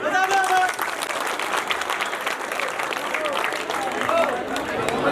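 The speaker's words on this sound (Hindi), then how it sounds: "अपने विचार के भाई सभी से बड़ा जोरदार ताली।" Loud, sustained applause from a large crowd at a village gathering, dense clapping running steadily throughout with shouts and voices mixed in.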